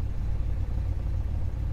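A steady, low fuel-injected engine rumble from a 1977 Chevy C10 pickup idles evenly at about 850 RPM throughout, close by, with no voices or other sounds.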